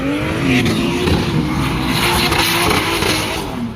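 A V8-swapped drift car driven by Martin Langlois roars loudly and steadily at a drift event in Sainte-Croix, the engine note rising and falling as it slides past with faint tire squeal.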